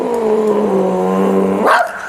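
A dog gives one long, drawn-out howling bark, loud and close, with a short rough yelp at the end.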